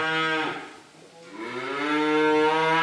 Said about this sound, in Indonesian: Sapi yang ke-11 untuk jenis Limousin Cross usia di atas 1 tahun yang ini ya.